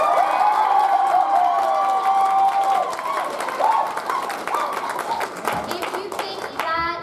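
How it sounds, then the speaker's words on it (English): A convention panel audience at a fan event applauds during a vote, with clapping and a few cheers under tonal sounds and voices. "If you think that Sprinkles is the real Pinkie, applause"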